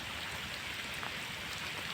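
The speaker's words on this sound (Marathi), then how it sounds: "आज 1 तारखेला जोरात असा पाऊस पडल्याने नदीला पूर आलेला आहे" Heavy monsoon rain falling in Palghar district, a dense, steady hiss of downpour on surfaces, close and even throughout with no voices.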